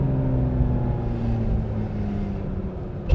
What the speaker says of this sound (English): I mean, listen to that exhaust.